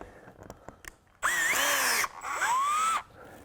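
A power drill bores into a roof to mount a solar panel, with two sustained whining runs, the second slightly shorter, each separated by brief pauses and preceded by faint handling clicks.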